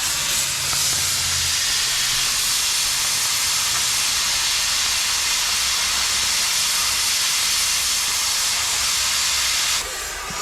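Cutting torch burning bolt holes through a camper trailer, a loud steady roaring hiss that runs almost unbroken and cuts off near the end.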